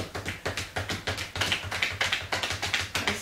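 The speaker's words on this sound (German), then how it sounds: "Und noch ein bisschen klopfen" Rhythmic tapping during a cardio warm-up workout, steady repeated beats about every quarter second, close and clear with no talking.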